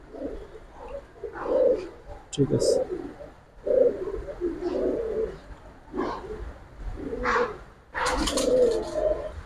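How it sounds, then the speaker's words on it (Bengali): Coloured pigeons coo repeatedly nearby in soft, throaty phrases with brief chirps, while someone talks over them. "এগুলো হলো কালারিং কবুতর"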